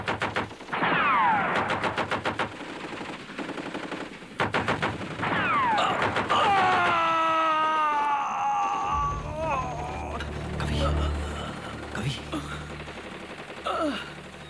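Battlefield gunfire in a war drama: rapid bursts of automatic fire crackle in clusters, with whistling and whining effects in between, shouted voices, and a deep rumbling blast toward the end.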